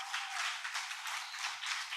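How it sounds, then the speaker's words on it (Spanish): Church congregation clapping for the Lord during a Spanish-language service, a steady broadband patter of many hands sustained throughout at moderate distance with no voices over it. "Le puede dar un aplauso al Señor"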